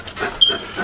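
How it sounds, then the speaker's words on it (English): A small dog pants in a few quick, soft breaths close by, with a brief faint squeak partway through. "Come here, little dog!"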